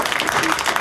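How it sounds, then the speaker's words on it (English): An audience applauds at a Horror Realm 2025 convention panel, a steady burst of clapping lasting under a second with no gaps. "And give a round of applause for Alyson."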